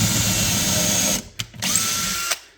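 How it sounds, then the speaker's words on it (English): A Makita LXT 18V sub-compact cordless drill whines loudly and steadily as it bores a hole in a board, then stops with two brief bursts of the motor and a final short trigger blip, close by. "So I'm going to drill a hole for you here, just so we don't crack the board."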